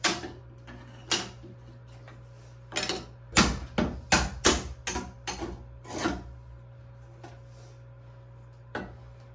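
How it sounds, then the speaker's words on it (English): Old basement floor tile being chipped and broken up: a series of dull knocks and scraping rasps in irregular bursts, close, with a steady low hum underneath and no talking. "So get in under there and just try to break up some of this tile."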